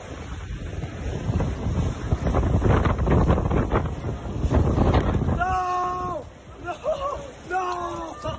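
Strong gusty wind roars and buffets the microphone in a backyard where two trees are uprooted, loud for several seconds before easing, with people's voices breaking in near the end.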